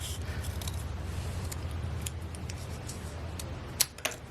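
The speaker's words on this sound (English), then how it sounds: "I'm just going to take a pair of scissors and I'm going to cut" Scissors trim a folded cardstock label for a handmade card, with light paper handling followed by two crisp, close snips in quick succession near the end.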